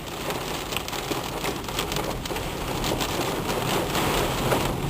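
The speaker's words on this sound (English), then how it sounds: "Pea-sized hail coming down." Pea-sized hail pours down during a storm while driving on a road, a dense, steady roar of impacts, loud and continuous throughout with no break or voices.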